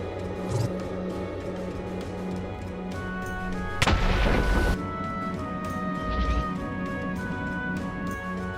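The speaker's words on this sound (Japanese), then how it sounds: "ディスパッチャーが古代ポットを発射するときは、こんな音が出ます" A Dispatcher fires its ancient pot attack in Minecraft RLCraft with the parasite mod: a single loud, harsh roaring blast lasting about a second, which rises out of a steady droning background hum and then cuts off.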